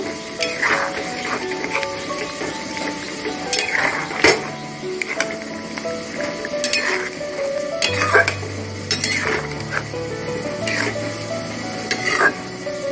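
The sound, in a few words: stirring poppy seed paste into rohu fish curry in a pan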